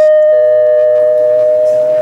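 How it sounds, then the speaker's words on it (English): A sustained electronic doorbell tone sounds in a home, a steady pure ringing that starts sharply and holds for about two seconds, slightly shifting pitch early on, clear and close with no talk over it. "Tracie, that's the doorbell, baby."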